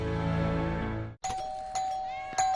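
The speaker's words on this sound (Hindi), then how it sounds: "कब से घंटी बजा रहा हूँ" An electronic doorbell rings loud and close: one sustained chime cuts off, then ding-dong tones repeat in quick succession with no voices.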